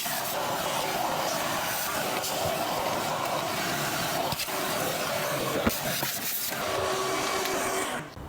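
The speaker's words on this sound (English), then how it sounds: "I'm going to just take a quick chance and vacuum out the rest of this area underneath" A steady, droning vacuum cleaner whirs continuously at moderate volume around a Porsche 991.2 GT3 battery tray, with occasional clunks and scraping as the nozzle moves around, then cuts off at the end.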